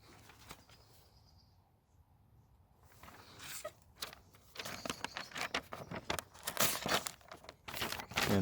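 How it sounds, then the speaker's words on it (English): A homemade mild steel knife cutting through material, heard as a run of close, dry rasping and crinkling strokes, sparse at first and then growing denser and louder toward the end. "if you push the knife through like that, it cuts"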